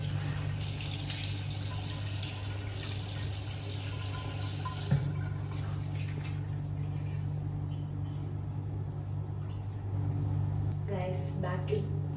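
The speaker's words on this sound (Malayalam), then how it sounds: "മുഖം വെള്ളം കൊണ്ട് കഴുകണം" Tap water runs steadily into a sink as a face is washed during a morning skin care routine, a continuous splashing wash over low hum, with some handling noise and a brief voice near the end.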